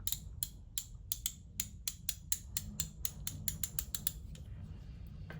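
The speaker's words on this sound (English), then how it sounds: "That sounds really nice. 72 tooth, as I mentioned." Rapid dry clicking of a fine-toothed 72-tooth Quinn socket ratchet, several quick bursts of ticks close up, fading out near the end with no voices.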